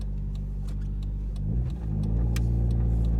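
A 1994 Nissan Pulsar GTI-R drives around town at light throttle, a steady low engine drone with a brief shift in tone midway, heard close from inside.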